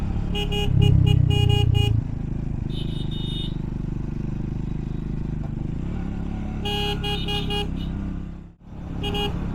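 A Triumph 400 motorcycle climbs the hairpin bends of the Kolli Hills with a steady engine drone throughout, broken by short bursts of horn honking near the start and again later on.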